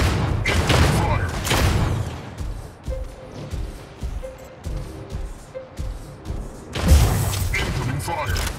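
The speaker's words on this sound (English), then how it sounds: "Incoming fire." Incoming weapons fire in the mech combat game Mech Arena: bursts of heavy booming shots and thuds strike in clusters, loud and close, with quieter impacts and a faint electronic tone between them.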